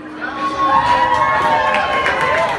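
A party crowd at a quinceañera celebration in Jiquilpan shouts and cheers together in a dense, sustained roar that holds steady throughout, with music-like tones woven underneath.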